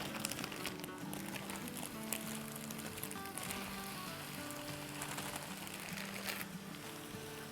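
Potatoes tumble into hot masala in a pan for aloo sabzi, raising a steady, fairly loud sizzle and crackle that runs without a break, with faint clinks and movement on top.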